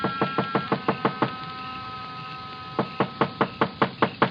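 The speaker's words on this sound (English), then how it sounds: "I knocked." Knuckles rap on the wooden door of a small frame building in two bursts of quick, evenly spaced knocks, about seven each, separated by a pause, close and distinct.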